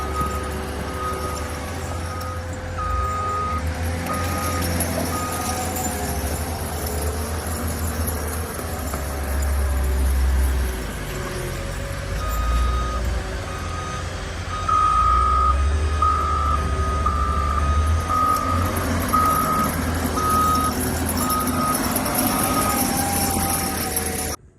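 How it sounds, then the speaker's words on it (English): A loader dumps debris into trucks at a demolition site. Steady repeating reversing beeps sound over a heavy diesel engine rumble and scraping clatter, continuous and fairly loud for the full length. "Everyone's feeding the loader and the loader's loading trucks."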